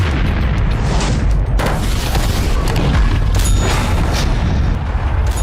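Heavy artillery shells fire in a propaganda clip, producing continuous loud booming and rumbling blasts that overlap into a dense, roaring wall of explosions with no gaps of quiet.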